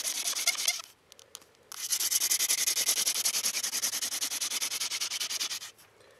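A wooden bow drill spindle grinds on a hearth board in fast, regular back-and-forth strokes, a close, loud scratchy rasp pulsing steadily, with a short pause before the sawing resumes.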